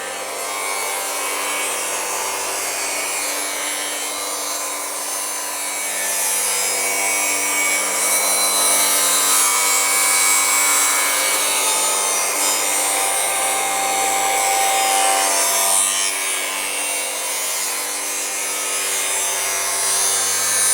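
Handsaw cutting through wood gable wall siding, a steady rasping stroke rhythm that runs close and loud for about twenty seconds with no talk.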